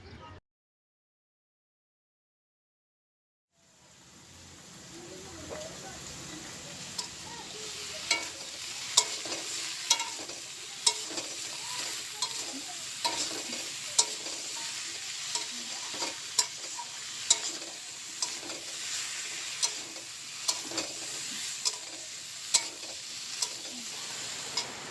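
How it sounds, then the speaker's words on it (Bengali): Pumpkin, Malabar spinach, eggplant and prawns frying for a chachchori, starting after a moment of silence with a steady close sizzle and repeated clinks of a spatula stirring the pan. "এই যে কুমড়ো আর এই পুঁই শাক বেগুন দিয়ে যে চচ্চড়িটা করবো আর কি কেটে রেখেছিলাম সেটাই বসিয়ে দিয়েছি এখন"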